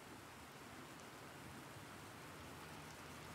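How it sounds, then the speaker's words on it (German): Steady, even rain hiss falls inside a cave in the video game The Planet Crafter, a soft dense wash of drops with no pauses, fairly faint and unbroken throughout. "In der Höhle regnet's."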